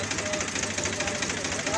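A tractor engine runs on a rural road in Hayaghat block, Darbhanga district, Bihar, giving a steady, close, low rumble that continues under people talking.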